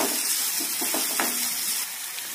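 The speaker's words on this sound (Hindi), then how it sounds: "और अब इसमें प्याज को ऐड कर देंगे और इसे चला लेंगे।" Onions sizzle and fry in a pan for an aloo matar potato-peas curry, with a steady hiss and a few soft stirring scrapes now and then. Close and continuous, with no voices.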